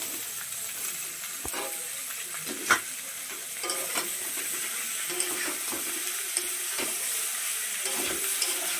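Pasta fried and stirred in a pan with onions and green chillies: a steady broadband sizzle runs throughout, broken by scattered scraping knocks of a utensil against the pan, one louder clack near the start, with no talking.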